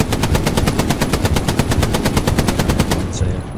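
An M1918 Browning Automatic Rifle in the Hell Let Loose video game fires one long, steady automatic burst of evenly spaced shots that stays loud and close for about three seconds before stopping.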